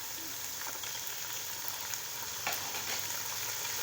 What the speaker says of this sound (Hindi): 1 से 2 मिनट गाजर को भी फ्राई कर लेंगे, साथ इसमें दूसरी और सब्जियां भी इसमें ऐड कर देंगे।